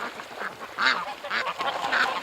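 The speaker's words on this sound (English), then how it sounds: "Oh, there's that pretty duck again." A duck quacks repeatedly at close range, a series of short, nasal calls in an uneven rhythm.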